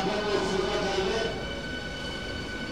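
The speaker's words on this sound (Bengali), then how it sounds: "রানাঘাট বনগাঁ শিয়ালদা লোকাল চলে আসলো রানাঘাটের 4 নম্বর প্ল্যাটফর্মে" An AC local train on the Bangaon–Ranaghat–Sealdah line rolls into platform 4 at Ranaghat station, a steady loud rumble with wheel and brake tones that eases slightly as it slows.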